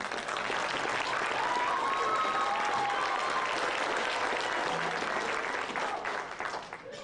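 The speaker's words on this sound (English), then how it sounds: "So that's a round of applause for them." A concert audience applauds a school band after a spring performance, a full even wash of clapping lasting several seconds before tapering off at the end.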